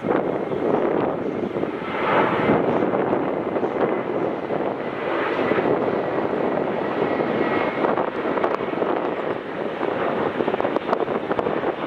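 A plane taking off very early from Melbourne Airport, a steady broad engine roar held close and loud for the whole stretch, mixed with gusty wind buffeting the microphone.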